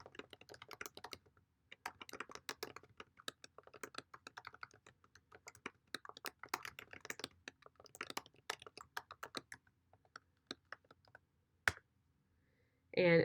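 Code being typed on a computer keyboard, a close, quiet stream of irregular key clicks with brief pauses, ending in a short louder burst.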